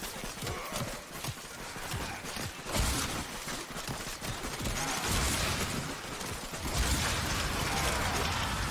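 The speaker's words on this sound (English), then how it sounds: "now I've got more of them shooting at me, shooting at me" Enemy gunfire in a video game comes in rapid, sustained bursts with clattering mechanical noise, loud and dense, rising in waves across the stretch.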